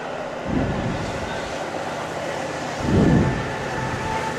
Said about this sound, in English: With a very loud elevated train going by us.